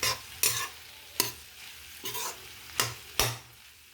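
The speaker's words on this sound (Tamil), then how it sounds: "விட்டு போட்டு நல்லா வதக்கணும்" Boiled lentil balls being sautéed with chillies in a pan for cluster-bean paruppu usili, a steady sizzle broken by six sharp scraping stirs of the spatula at regular intervals, close and moderately loud, with no voices.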